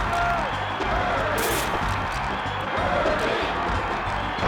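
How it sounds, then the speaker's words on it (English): In-game crowd chanting and cheering in Super Smash Bros. 64 during a Pikachu versus Kirby match, loud and continuous with overlapping voices and clapping. "Even the crowd is chanting for Kirby now. The in-game crowd."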